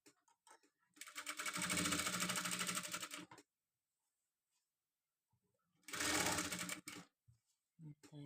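A sewing machine stitches a blouse neckline in two bursts, a long whirring run of about two seconds and a shorter one later, close and clear, with soft speech in between.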